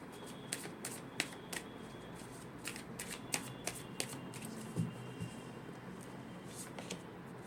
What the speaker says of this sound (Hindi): मैं आपके लिए भी कार्ड निकालूंगी